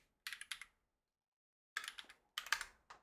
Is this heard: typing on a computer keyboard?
yes